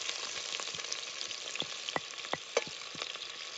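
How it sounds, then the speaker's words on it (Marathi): Chopped onion fries in hot oil for a mutton vajri curry, crackling with a continuous sizzle punctuated by sharp pops and stirring scrapes, close and moderately quiet, with no speech. "हा तेल गरम झालंय चांगलं. कांदा चिरून घेतलेला आता त्यात टाकून घेते"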